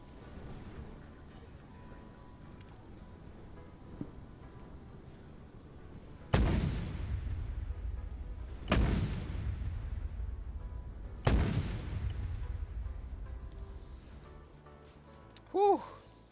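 Three heavy mortar blasts from NVA positions in a Vietnam-era military game, each a loud booming impact with a long decaying rumble, spaced a few seconds apart over quieter ambient background.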